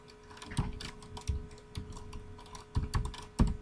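Typing on a computer keyboard while entering data in Microsoft Excel, soft irregular key clicks with a few louder taps, close but quiet, no talking.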